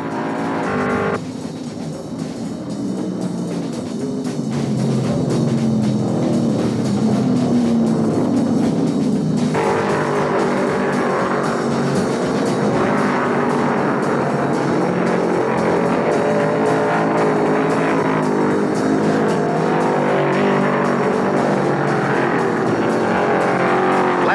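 Stock cars thunder around the Martinsville short track in the 1971 Virginia 500, a dense, continuous roar of several engines running close together, loud and steady throughout with no voices over it.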